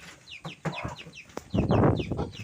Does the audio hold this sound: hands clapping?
no